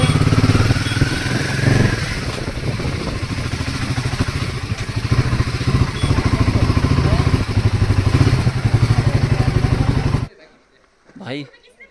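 A motorbike engine chugs steadily with a rapid rhythmic pulse and clatter during a ride, loud and near, before cutting off abruptly near the end, followed by brief faint sounds.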